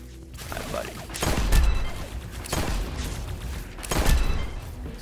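Gunfire in a video game, including pistol shots: three heavy, booming bursts spaced about a second and a half apart over a constant low rumble.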